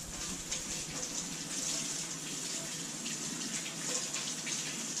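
Items rinsed under a running tap, a steady close hiss of flowing water with faint splashing, outdoors during heavy rain at a catch-and-cook session.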